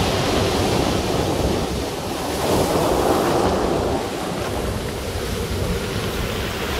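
Ocean waves roll in on a small beach at Otter Point, Oregon, a steady broadband wash that swells around the middle, with wind noise buffeting the microphone and no voices.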